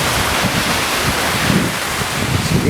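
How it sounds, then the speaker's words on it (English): Ocean surf at Pismo Beach, California, a dense broadband wash of breaking waves with heavy wind buffeting on the microphone, loud and continuous. "We're right down by the beach"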